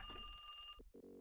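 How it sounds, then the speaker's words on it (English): Telephone ringing in a horror video game, a bright electronic trill that rings steadily for most of a second and then stops abruptly, followed by a low buzzing tone. "Someone's at the phone."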